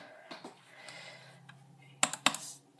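A few quiet keystrokes tap on a computer keyboard, with a short double burst of louder clicks near the end.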